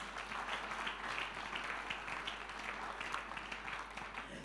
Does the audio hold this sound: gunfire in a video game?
no